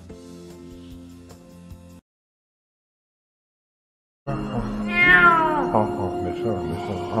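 After some background noise and a gap of silence, a kitten meows loudly and repeatedly up close, its cries rising and wavering.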